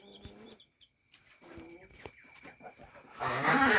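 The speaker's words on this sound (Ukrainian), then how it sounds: "Ось тут є ще два старих курки." Old hens on a farm give soft, scattered clucks and short calls at middle distance, with brief rustling and a louder burst of wing flapping or scuffling near the end.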